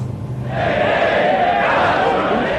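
A crowd of demonstrators in Leipzig chants in unison, a loud sustained mass of voices rising after a brief quieter start and holding steady to the end.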